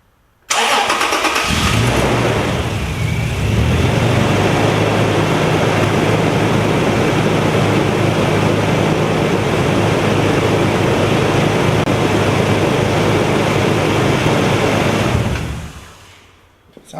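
A car engine with a slight exhaust leak cranks and starts, then runs at a steady idle for over ten seconds before shutting off, close and loud with no talk over it.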